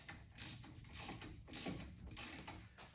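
A ratchet snugs up the disc brake caliper bolts on a 1963 Mercury Meteor, its rapid clicking coming in several close, quiet bursts with short pauses between strokes.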